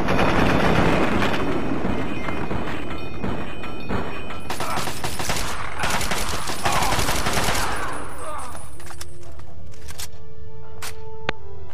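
Bursts of rapid gunfire from the Fallout 3 video game rattle loudly through most of the stretch, dense volleys that thin out into a few scattered shots and mechanical clicks near the end.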